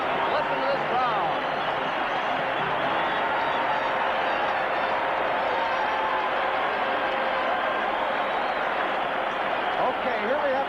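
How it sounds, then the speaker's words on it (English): A loud 1976 Canada Cup hockey arena crowd roars steadily throughout, a dense, continuous wall of cheering at a big international final with no breaks. "Listen to this crowd."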